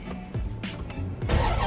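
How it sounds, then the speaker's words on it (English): A Dodge Charger Scat Pack V8 cranks and catches, a short burst of low rumbling and churning engine noise that rises in loudness toward the end, close by. "the engine turning on"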